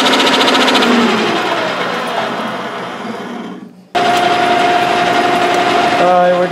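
A metal lathe turns a gearbox shaft, loud and close, with a harsh high chatter ringing from the cutting tool. The cut stops briefly and then resumes with a steady tonal whine.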